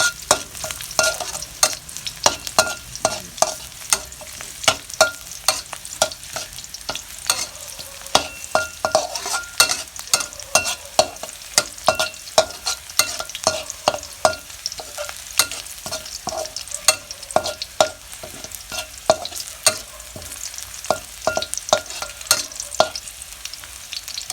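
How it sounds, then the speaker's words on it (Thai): Garlic fries in a pan until fragrant, with a steady sizzle under a rapid run of close, sharp clicks and scrapes as it is stirred throughout. "หัวเจียวกระเทียมให้หอมๆกันนะคะ"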